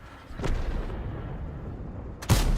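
Artillery fire in World of Tanks, two heavy booming shots about two seconds apart, the second louder and closer, each followed by a rumbling tail.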